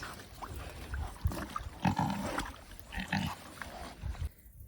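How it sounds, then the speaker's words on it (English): Pigs on an off-grid homestead grunting and snuffling near a mud wallow after being hosed down, several close grunts in irregular bursts over quiet outdoor ambience. "Happy pigs."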